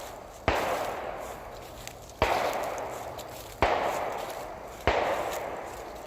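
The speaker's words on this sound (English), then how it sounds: "I believe somebody's doing some plinking or some target practice. Y'all hear the gunshots." Four sharp cracks of gunfire from target practice, spaced a second or two apart, each ringing out and decaying slowly, carried from a distance across rural hunting land with no talk.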